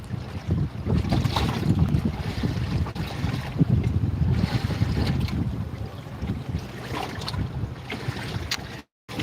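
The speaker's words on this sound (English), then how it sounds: "It is a lot windier than it looks out here." Wind buffets the microphone steadily on open ocean from a small fishing boat, with low rumbling gusts and faint water wash throughout, loud and continuous with a brief dropout near the end.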